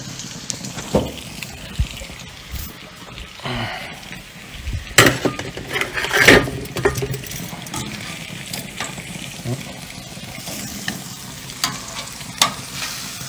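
Burger patties for a homemade bacon cheeseburger sizzle steadily on a grill, close and continuous, with a few louder scraping and clattering touches partway through and no talking.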